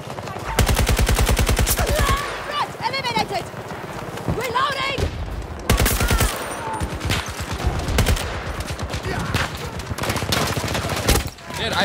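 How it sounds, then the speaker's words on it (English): Rapid automatic gunfire in the video game Battlefield 2042, loud sustained bursts with short pauses and scattered explosions, with voices chatting underneath. "Dude, I swear when you shoot this gun,"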